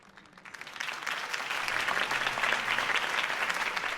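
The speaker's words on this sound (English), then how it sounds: "could have heard that applause" A crowd breaks into applause in the game Batman: The Telltale Series, the clapping quickly building into a steady, dense wash that carries on loudly throughout.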